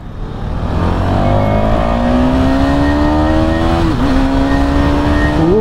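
A KTM Duke motorcycle on a test ride revs hard and accelerates, its engine rising steadily in pitch through a gear shift, loud and close with no talk.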